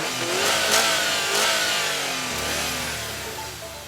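A 2017 Subaru WRX STI engine revs hard in a couple of rising pulls, then drops back toward a lower, steadier note, heard close and alone.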